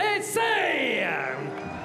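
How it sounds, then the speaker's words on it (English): Arena crowd at the STIHL TIMBERSPORTS Team World Championship 2024 cheers and whoops for Team USA, a loud sustained roar with rising yells and shouts filling the whole moment. "un tonnerre d'applaudissements pour l'équipe des États-Unis d'Amérique."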